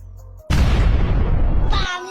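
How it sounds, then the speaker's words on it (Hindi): Cartoon firecracker blasting inside a pipe: a sudden loud broadband boom bursts in and roars on for over a second, then gives way to a brief squeaky, cartoonish tail, with no talk over it. "लेकिन कुत्ता उसके पाइप में पटाखा डाल देता"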